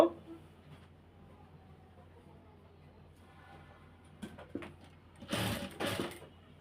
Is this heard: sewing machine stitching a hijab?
yes